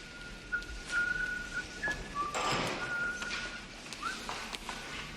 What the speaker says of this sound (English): He's whistling a Christmas tune.